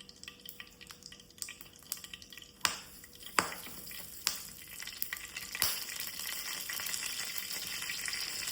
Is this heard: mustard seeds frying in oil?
yes